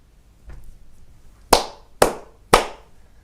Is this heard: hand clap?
yes